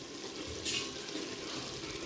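Water pours softly into a cooking pot for mushroom biryani, a faint, steady splashing with a brief louder gush partway through.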